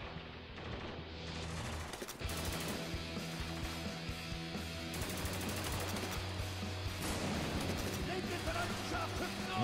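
Gunfire in Spec Ops: The Line, a dense, loud run of shots and bursts filling the whole stretch under a layered game soundtrack, with the noise thickening after the first couple of seconds.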